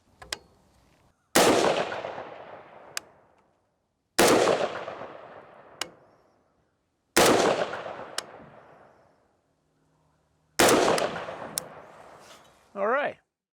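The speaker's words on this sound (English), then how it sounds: "we're taking some new shots from the Benchmaster" Four loud, sharp gunshots from a PSA JAKL AR/AK pistol fired at a bench, evenly spaced about three seconds apart, each with a short echoing tail and fainter clicks between, ending in a brief voice.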